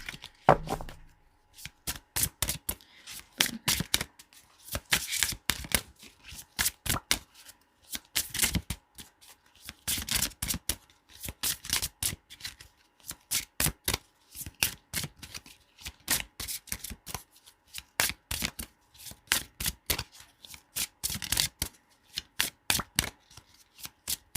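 Tarot cards being shuffled by hand, a long run of crisp riffling bursts repeating in a steady rhythm, close and clear with no talking.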